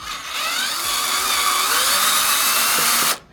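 A power tool runs steadily in anticlockwise mode while unscrewing a nut on a Yamaha R1 motorcycle exhaust. It keeps a loud, high whirring drone for about three seconds, then stops abruptly.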